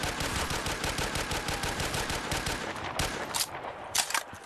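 Rapid automatic gunfire in a Black Ops 3 zombies custom map, a dense stream of close, loud shots that thins out near the end into a few separate sharp bursts.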